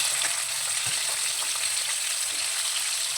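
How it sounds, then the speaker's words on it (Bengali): Whole medium-sized potatoes frying in hot oil while cooking a spicy chicken curry, a steady close sizzle and crackle running continuously with no talk. "এবার আমি এই তেলের মধ্যে আলুটাও ভেজে নেব।"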